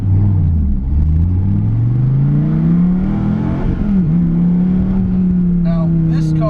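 A Dodge Viper T/A pulls away, its engine droning loud and close with a rising, steady pitch as it gathers speed, the deep rumble continuing throughout.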